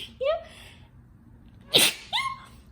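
A single sharp sneeze from a person indoors, close and abrupt, with a short breathy voiced sound just before and another just after it.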